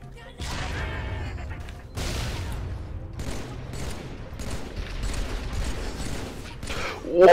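Gun turrets firing in Halo 3 on Legendary campaign, several bursts of heavy gunfire and rapid fusillades in loud waves, with players talking over the battle.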